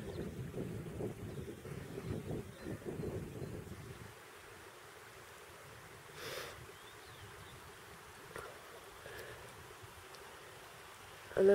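A steady, soft rush of a river's flowing water fills the scene on the Mongolian steppe, with a brief low buzzing at the start and a few faint distant knocks.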